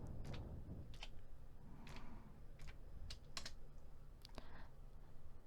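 Computer keyboard typing, a company name being entered: soft scattered key clicks in short bursts and single taps, close and quiet with no talk.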